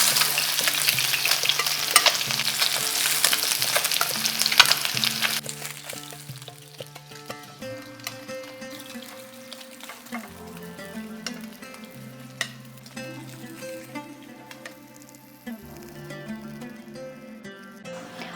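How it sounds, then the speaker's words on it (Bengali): Rui fish frying in hot oil, a steady crackling sizzle that is loud at first and then settles lower, with stirring and utensil clinks through it and tonal background sounds underneath; no one talks. "মাছটা খুব বেশি খড়িয়ে ভাজবো না"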